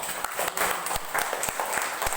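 A congregation at a chapel service applauds for the Lord, with brisk, dense clapping from many hands that fills the room steadily throughout.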